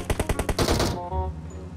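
Gunfire in the mobile battle-royale game PUBG Mobile: a rapid, evenly spaced string of loud automatic shots, then a sustained burst that fades into a ringing tail.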